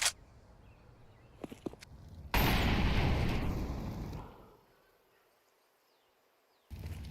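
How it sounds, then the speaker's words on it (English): A grenade goes off in a Counter-Strike esports match, a loud sudden broadband blast after light clicks and footsteps, then a long roaring decay that fades out before the game audio returns. "Good grenade finding Kerrigan."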